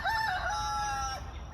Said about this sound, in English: And then Leia is the furthest chicken in the corner there on the left.